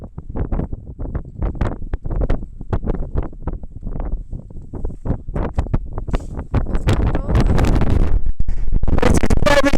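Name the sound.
strong wind blowing into microphone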